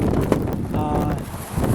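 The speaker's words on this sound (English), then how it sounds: "A little windy out here." Wind buffets the microphone with a low, rumbling roar throughout, fairly loud and close, outdoors during plasma cutting.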